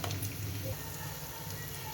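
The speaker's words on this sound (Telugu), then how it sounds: "కొంచెం అల్లం వెల్లుల్లి పేస్ట్ యాడ్ చేసుకొని పచ్చి వాసన పోయేంత వరకు బాగా వేపుకోవాలి." Ginger garlic paste fries in a pan for a raw mango curry with fish, producing a brief, even sizzle over a low background rumble.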